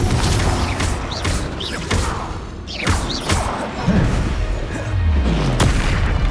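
Explosive Confringo spell blasts in Hogwarts Legacy combat: loud booming impacts and crashing debris over a steady rumble of battle noise, several hits spread across the stretch.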